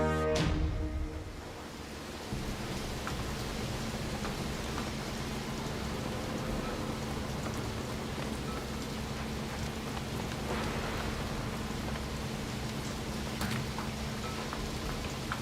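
Steady rain and storm noise in a video game, a dense continuous wash heard from a barge out on the water, loud and unbroken throughout with no talking.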